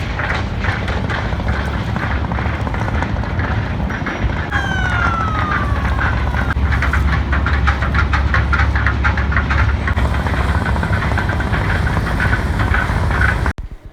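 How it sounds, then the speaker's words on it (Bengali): A ship passing close by on the Buriganga river, producing a loud, steady engine rumble and broad mechanical roar that holds throughout, with higher whining tones layered on top. "আমাদের পাশ দিয়ে এখন একটা জাহাজ যাইতেছে।"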